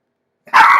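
A dog at home lets out a sudden loud bark or yelp after silence, close and sharp, cutting off abruptly.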